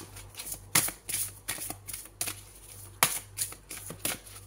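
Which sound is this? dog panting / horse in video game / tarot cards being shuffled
tarot cards being shuffled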